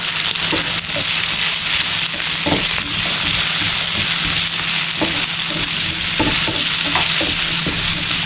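Onions and shallots fry in hot oil with cloves, cardamom, cumin and fennel for Ramadan nombu kanji, a constant dense sizzle broken by occasional stirring taps close by.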